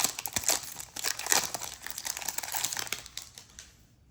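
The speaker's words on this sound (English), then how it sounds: "these packs are giving me trouble" Crinkly plastic wrappers of Magic: The Gathering Secrets of Strixhaven booster packs being ripped and crumpled up close, with busy crackling bursts throughout that fade out near the end.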